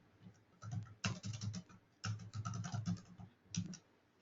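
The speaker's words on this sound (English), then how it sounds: "we're going to use the keyword and we're going to type in Florida." Computer keyboard typing in three clustered bursts of rapid, close keystrokes separated by brief pauses, clear against a quiet room.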